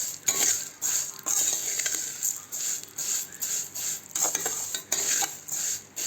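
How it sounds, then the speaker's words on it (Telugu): Vermicelli (semiya) being stirred and fried in a spoonful of oil in a pan on low heat, for semiya upma: repeated scraping and clinking strokes of a utensil over a steady faint sizzle, close up, with no talking. "ఒక 2-3 నిమిషాల పాటు బాగా కొంచెం సిమ్లోనే పెట్టుకొని వేయించుకోండి."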